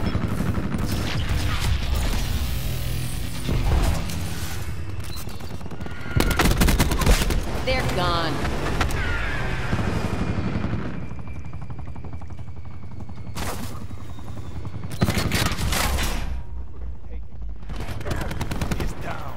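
Artillery barrage and rapid gunfire in the Call of Duty Black Ops 4 video game, repeated heavy bursts of shots and booms in several waves, loud and close.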